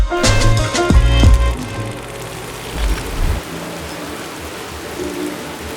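Steady rain falls on a very rainy day, a broad, even hiss that continues alone after some louder, blunt tonal sounds at the start.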